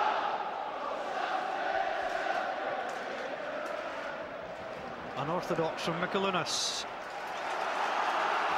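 Football stadium crowd at Hearts versus AEK Athens roaring in a steady broad wash of noise, swelling again toward the end, with a commentator talking over it.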